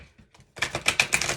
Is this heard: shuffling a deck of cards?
yes